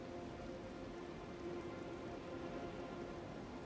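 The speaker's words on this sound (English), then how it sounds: "Maybe it's just the rain I'm hearing" Steady video game rain in Elden Ring: Shadow of the Erdtree, a constant even hiss of falling drops filling the whole stretch with no other sounds.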